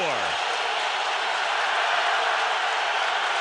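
A football stadium crowd at a 2004 Minnesota at Philadelphia NFL game roars as fans rise, a loud, dense and sustained wash of cheering with no pauses.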